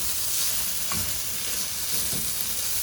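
Chicken fried rice with spices being stirred in a hot pan, with steady frying sizzle and a few soft scraping strokes of the spatula.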